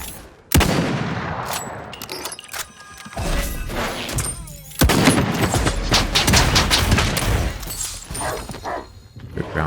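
Gunfire rings out in the video game Realm Royale Reforged as a burst of sharp shots, loud and close, layered over busy game effects and impacts.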